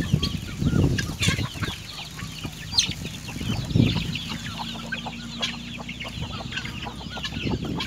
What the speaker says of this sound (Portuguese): As galinhas, gente.